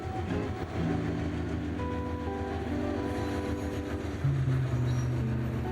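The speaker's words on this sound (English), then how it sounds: "we saw a westbound BNSF port stack near Oro Grande" A westbound BNSF double-stack freight train rolls past near Oro Grande, a continuous loud rumble with low droning engine tones and rail noise, no talk.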